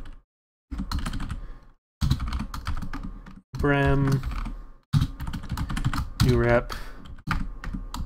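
Someone types on a computer keyboard while building a Star Wars strategy-game mod during a live stream, with quick light key clicks running under near-constant talk.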